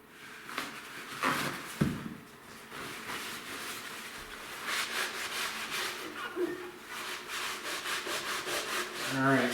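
Fireplace glass being scrubbed clean of stubborn buildup gives close, steady rubbing strokes in an uneven rhythm, soft and scratchy.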